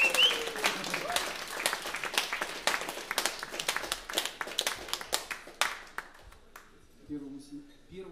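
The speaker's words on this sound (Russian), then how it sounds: "аплодисментами встречают артистов." Audience applause for performers at a jazz quintet concert, a dense burst of clapping that thins out over several seconds, with people talking faintly near the end.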